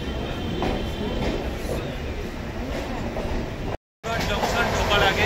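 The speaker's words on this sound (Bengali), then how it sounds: "ট্রেন ছাড়লো বোলপুর শান্তিনিকেতন।" Saraighat Express pulling out of Bolpur Shantiniketan station, a steady loud rumble of rolling coaches with a brief dropout near the end before the noise resumes.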